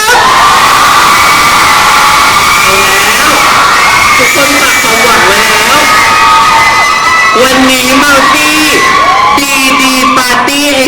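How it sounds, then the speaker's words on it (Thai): A studio audience at a Thai game show screams and cheers loudly and continuously, with high-pitched shrieks swelling toward the end and voices mixed throughout. "ก็ขอเสียงกรี๊ดให้น้องภูหน่อยครับ"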